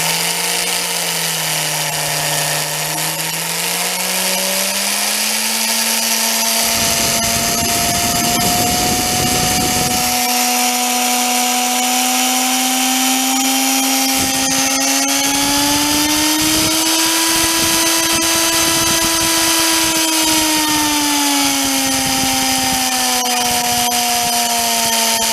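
Electric drill motor whining steadily at high pitch, its tone drifting slightly as speed changes, with bursts of grinding noise partway through.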